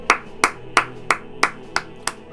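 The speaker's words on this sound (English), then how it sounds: "He deserves a round of applause." One person claps eight times at a slow, steady pace, each clap sharp and close.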